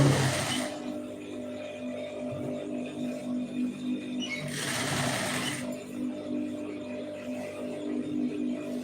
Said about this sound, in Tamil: ஒரே மாதிரி கரெக்டாக தையல் போட்டு வந்துருக்கேன்